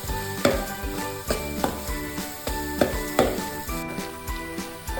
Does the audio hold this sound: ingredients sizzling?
yes